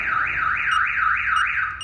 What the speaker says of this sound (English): And again, alarm's going off.